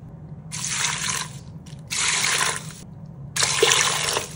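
Water poured into an Instant Pot holding oiled, seeded peppers for birria, in three separate splashing pours of about a second each, close and steady.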